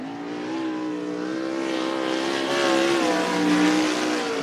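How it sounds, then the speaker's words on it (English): Race car number 34 laps Cottage Grove Speedway during a spring race night, its engine holding a sustained droning tone that rises slightly as it passes nearer, loud and alone without commentary. "Melissa Soulsby in car number 34."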